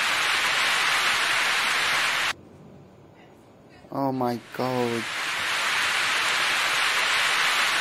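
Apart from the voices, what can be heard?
heavy rain and strong wind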